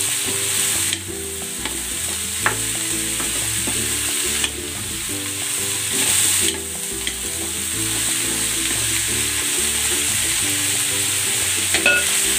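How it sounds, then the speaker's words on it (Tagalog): One kilo of chayote frying in a pan, with a steady loud sizzle, a scrape of stirring now and then, and faint background music underneath. "At ilalagay ko na dito itong sayote."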